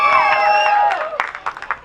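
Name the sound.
audience applause and cheering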